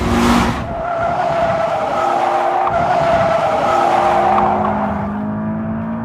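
A 2015 Subaru BRZ at speed on a racetrack, its engine droning steadily with sustained tire squeal and skidding throughout, loud and close with no talk.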